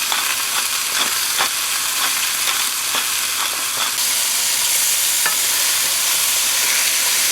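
Pork browning in a hot pan for an Italian sauce, a dense continuous sizzle punctuated by several soft stirring scrapes, close and steady with no voices.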